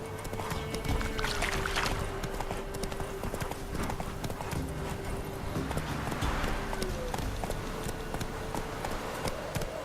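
Geralt's horse Roach in The Witcher 3 moves in a steady rhythmic clip-clop of hooves, close and continuous over an ambient outdoor game soundscape.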